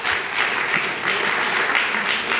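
Audience in a lecture hall clapping steadily through the whole short stretch, a dense, even wash of applause with no voices standing out.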